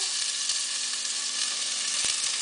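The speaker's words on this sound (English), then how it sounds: "so the onions are browning" Onions browning in oil in a pan for marinara sauce give a steady, loud, close sizzle that runs unbroken throughout, with a couple of faint clicks near the end.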